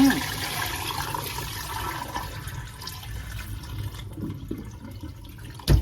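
Soaking water is poured off glutinous rice after five hours, a close gushing and splashing of water that tapers into trickles and drips before a final thud.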